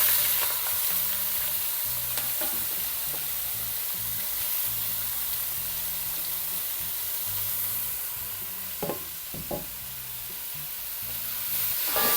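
A Kerala thoran vegetable mix sizzling and crackling in a hot pan, with occasional scraping and stirring knocks, steady and close.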